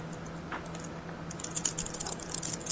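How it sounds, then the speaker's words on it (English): Steady computer keyboard typing runs quietly in the background of a podcast recording, a continuous patter of soft key clicks with a low hum underneath and no speech. "I hear a lot of typing"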